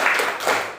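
A group claps after a classroom presentation, a brief burst of dense, overlapping applause close by.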